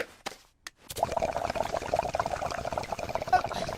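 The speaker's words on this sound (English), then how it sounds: "I thought I heard the bubbling somewhere." Water gurgles and bubbles steadily inside a pipe after a couple of sharp knocks, a continuous liquid burbling that stays at moderate loudness throughout.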